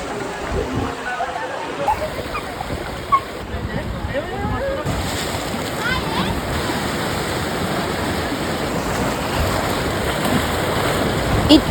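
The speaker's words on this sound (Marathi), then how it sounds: "इथे भरतीचं टाइम आहे तर जाम लाटा येतात बघा." Sea waves wash in at high tide on a Konkan beach, a steady broad roar of surf that builds slightly toward the end, with occasional voices and bustle of people nearby.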